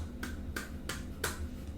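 Four sharp hand claps spaced about a third of a second apart, done in a quirky imitation of how a singer claps, close and crisp over a low background hum.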